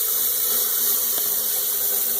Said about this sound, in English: I'm going to be filling this reservoir here with water.